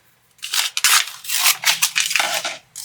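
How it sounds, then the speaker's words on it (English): Scissors snipping through crafting material for a Cricut Halloween home decor project, a run of close, loud crisp cuts and rustles lasting about two seconds, with no talking. "let me cut this down"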